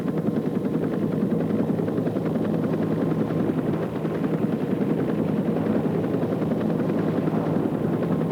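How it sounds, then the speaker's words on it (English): A helicopter drones steadily nearby during the Vietnam War, its rotor chop pulsing in a continuous loud wash with no pauses. "Helicopters"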